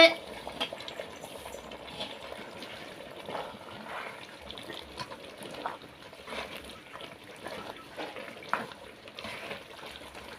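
Snail gravy made with a ground kuruma paste simmering in a pot with drumstick leaves added, a soft continuous bubbling and faint watery crackle with scattered small clinks, close and fairly quiet.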